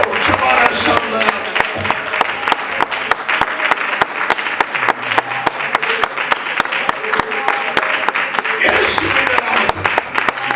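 Church worshippers clap their hands continuously in a dense, rapid patter, loud and near, while a preacher's voice carries over the clapping.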